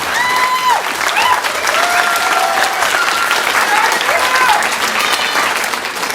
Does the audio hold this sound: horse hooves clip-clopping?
no